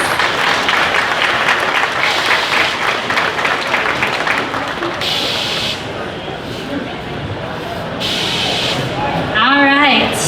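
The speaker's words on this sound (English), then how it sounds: "Let's go ahead and give Miss Becky Black a round of applause." An audience claps for a contestant at the Lebanon Area Fair Queen and Princess Coronation. The clapping is dense and steady for about five seconds, then thins into scattered bursts, and a voice briefly cuts in near the end.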